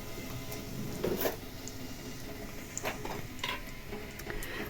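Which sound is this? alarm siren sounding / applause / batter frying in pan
batter frying in pan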